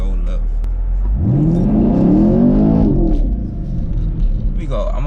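A Chevrolet Camaro SS V8 revs and accelerates hard, its deep engine rumble rising in pitch over a few seconds before easing off, loud and close with a steady low drone underneath.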